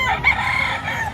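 A rooster crows close by at a rooster auction in the Philippines, one loud drawn-out call filling the moment.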